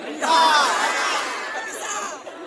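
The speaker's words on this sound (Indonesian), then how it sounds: "Dan tepuk tangan aja, bisa tak diulang balik?" A large crowd at an outdoor Islamic tabligh akbar gathering on Rupat Island bursts into loud shouting and cheering, swelling quickly and then tapering off.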